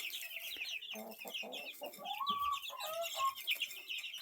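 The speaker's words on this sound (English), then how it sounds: "Pretty little chicks." Young chickens in a backyard flock cluck and peep in quick, overlapping bursts at close range, with a few brighter rising calls mixed in and no talking.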